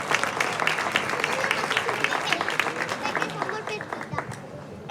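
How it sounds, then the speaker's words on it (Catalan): An audience at an outdoor concert of traditional singing breaks into steady, sustained applause with dense overlapping claps and crowd noise throughout. "així que un fort aplaudiment"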